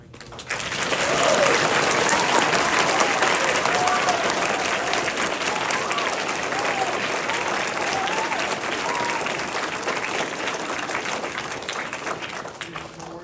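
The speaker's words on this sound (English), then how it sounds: "Can I get another round of applause for the fine" An audience at a Veterans Day ceremony breaks into sustained applause, a dense wash of clapping that swells after a second, holds steady for about ten seconds and then begins to thin.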